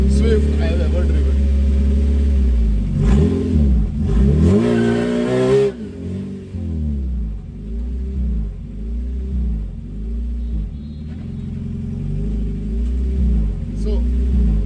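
A modified mid-engined Suzuki Swift drift and autocross car accelerates hard, its loud, close engine note climbing and falling through repeated revs and gear changes.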